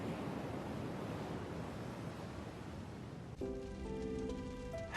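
Ocean waves washing ashore in an anime night scene, a steady broadband surf roar that fills the first three seconds before soft music with sustained tones takes over and continues above the fading wash.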